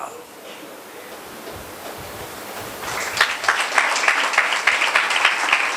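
A church congregation breaks into applause during a sermon, with the clapping rising after a quieter stretch of murmur and continuing as a dense, moderately loud patter to the end.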